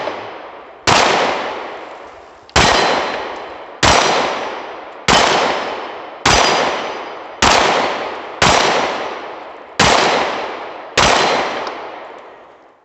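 A Canik TP9sa pistol fires ten single shots at a ringing steel target, each a loud sharp crack with a ringing decay, spaced about a second apart.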